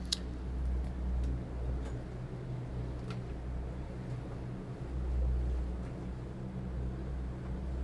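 A 2017 Axopar 37 Cabin motor boat heads down a river, its engine a steady, close low drone with faint ticking and water noise on top, and no voices.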